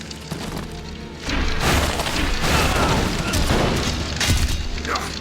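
Shotgun blasts in the video game Elex 2 land as heavy, booming shots, the first roughly a second in, followed by a loud, continuous rumble of further fire and impacts.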